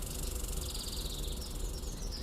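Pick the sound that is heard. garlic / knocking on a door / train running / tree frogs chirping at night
tree frogs chirping at night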